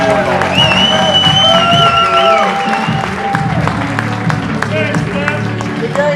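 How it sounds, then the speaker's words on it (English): Crowd applause and cheering at a High Point Rockers versus York Revolution minor-league baseball game as the pitcher walks off, steady and sustained throughout with whistles and whoops, a commentator talking over it. "walk out to a well-deserved round of applause"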